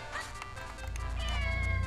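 A cat in the video game The Legend of Zelda: The Minish Cap gives a drawn-out meow, near and clear, rising into a louder wavering tail over about two seconds.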